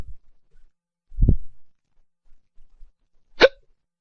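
A few separate hiccups sound in a quiet room, one dull low one followed by a sharper one, widely spaced and close by.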